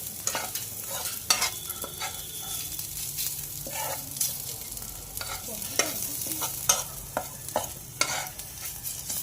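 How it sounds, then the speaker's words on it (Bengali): Garlic frying in hot oil in a pan and being stirred, with a steady close sizzle broken by repeated scraping stir strokes and light clinks of the utensil throughout, no voices. "রসুনটা একটু ভালো করে ভাজতে হবে, লাল যাতে একটু হয়।"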